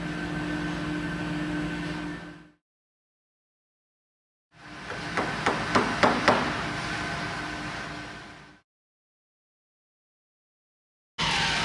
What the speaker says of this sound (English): Lining up one of the tabs with the slot in the nut, taking the screwdriver and tapping it up into